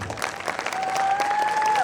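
Audience applause at a student arts festival awards ceremony, a steady dense wash of clapping from a crowd that swells slightly and holds, with a faint tonal whine running through the middle.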